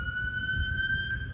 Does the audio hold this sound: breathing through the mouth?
no